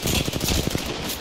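Rapid bursts of gunfire from an Apex Legends firefight, dense repeated shots packed tightly together at close range for over a second, with no talking over them.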